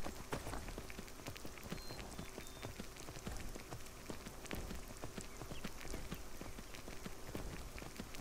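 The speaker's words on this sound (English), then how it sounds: "The rain is warm." Rain falling steadily in a video game, a dense, constant patter of drops hitting surfaces at even loudness throughout, with no voices over it.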